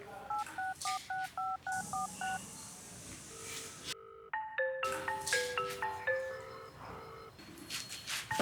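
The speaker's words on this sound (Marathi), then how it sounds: "थांब फोनच करतो." A phone keypad being dialed, a quick series of short even key tones followed by another run of tones with a steady line underneath, close and clear with no talking.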